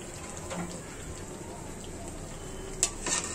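Mung dal puri frying in hot oil, a soft steady sizzle with faint stirring and a couple of brief clinks near the end.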